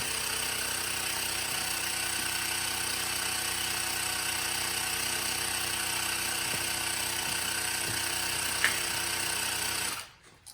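A small Nexpeak portable tire inflator compressor drones steadily and loudly up close with a rapid buzzing rattle while pumping a tire, then cuts off abruptly near the end.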